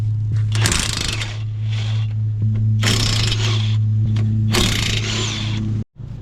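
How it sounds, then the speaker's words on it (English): A ratchet wrench works loose the 17 mm lower control arm nuts on a 2018 Kia Optima's front suspension, with repeated close, loud clicking bursts over a steady low hum, stopping abruptly near the end. "Take off these 3 nuts for the lower control arm."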